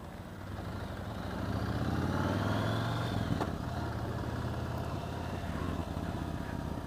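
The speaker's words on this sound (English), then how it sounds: "Great exhaust noise." A 2015 Yamaha Star Raider V-twin motorcycle rumbles through its exhaust while being ridden, a low, steady engine drone that swells briefly then settles, moderately loud with no talk.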